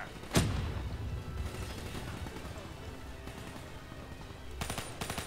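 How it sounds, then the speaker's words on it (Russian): An explosion from falling rockets in Call of Duty: Black Ops III hits as a sharp, close blast, then settles into a low rumbling aftermath with scattered distant crackling and a short burst of noise near the end. "Взрыва от упавших ракет."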